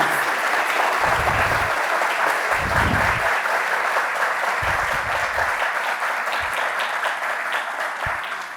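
Steady, dense clapping from a conference audience at the Museo de Arte Moderno fills the whole stretch, loud and continuous, with a few low thumps scattered through it.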